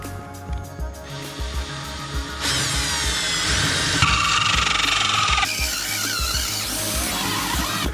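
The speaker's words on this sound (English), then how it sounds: "If you are planning on drilling a hole into your rig, make sure your battery's charged." A cordless drill boring a hole into the wall of an RV, its motor whining steadily at close range and rising into a high, strained squeal as the bit bites through the material, continuous for several seconds.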